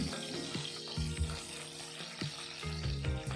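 Green chillies fry lightly in hot oil for a bitter gourd dish, a close continuous sizzle with a few clunks and scrapes from the pan.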